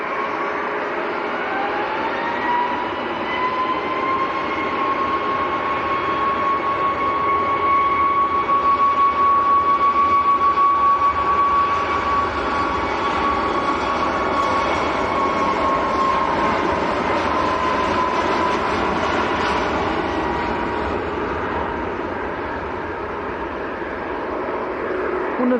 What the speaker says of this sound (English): Ryanair's just about to roll.